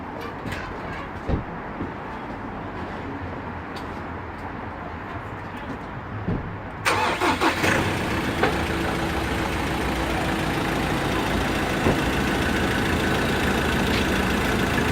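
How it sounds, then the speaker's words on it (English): A Ford Ranger engine cranks and catches about halfway through, then settles into a steady, close idle that runs to the end. "I will start the engine up, get you to have a listen to it."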